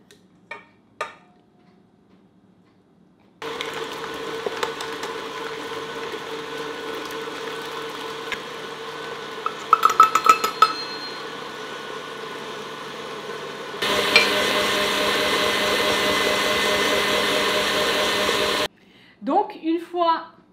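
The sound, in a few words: mixer blending cheesecake filling with sugar and vanilla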